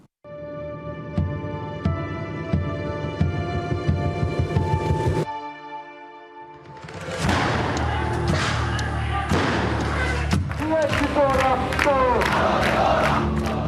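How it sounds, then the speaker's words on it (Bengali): A student crowd on a blockaded road chants protest slogans against the quota system, first as loud rhythmic thumping over a sustained tone, then after a brief lull as a dense, roaring mass of shouting voices. "সারা বাংলায় খবর দে, কোটা প্রথার কবর দে স্লোগানে ফেটে পড়ে ছাত্র সমাজ।"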